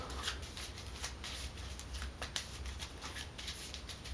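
A hit location card deck from the board game Kingdom Death being shuffled by hand, a soft run of quick riffling flutters and papery slaps repeating close up at low volume with no voices.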